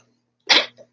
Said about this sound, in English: I'm gonna sneeze any minute now.